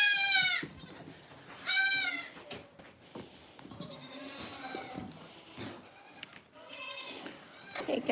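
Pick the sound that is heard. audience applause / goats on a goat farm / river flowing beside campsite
goats on a goat farm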